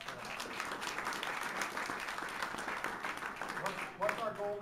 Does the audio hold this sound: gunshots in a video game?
no